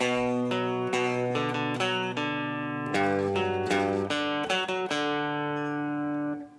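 The main riff from a song played on guitar, sustained ringing notes broken by quick picked attacks and short bursts, close and clear with no talking.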